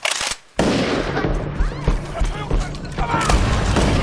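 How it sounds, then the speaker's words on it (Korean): Gunfire from a monster film scene: rapid, loud bursts of shots crackle over a dense, chaotic backdrop of screams and commotion, with voices shouting throughout. "희봉은 침착하게 다시 총을 발사합니다"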